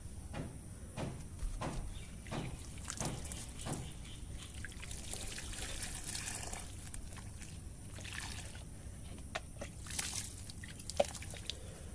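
Water poured onto freshly potted soil around a pomegranate plant, a steady trickle with soft dripping and squishy soaking, close by, with a run of distinct drip taps early on and no talking.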